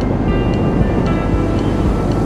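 Sea waves at the coast near Parga, Greece, a steady broadband wash of surf mixed with wind noise buffeting the microphone, loud and continuous with no clear individual breakers.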